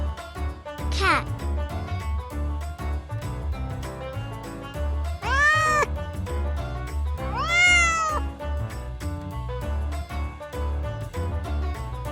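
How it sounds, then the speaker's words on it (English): Cat meowing three times, clear rising-and-falling meows spread across the stretch, set against a steady children's farm-animal song with a thumping beat. "cat"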